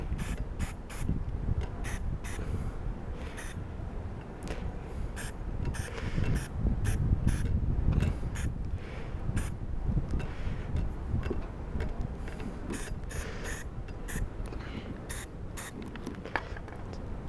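Black primer spray hisses in a long, steady stream close by, broken by repeated short clicks and rattles from the can's nozzle or mechanism in an irregular rhythm.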